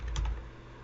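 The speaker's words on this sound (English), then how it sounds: "So I'm going to type in the code for that." A few quick keystrokes on a computer keyboard while code is typed, brief and close-up with no talk.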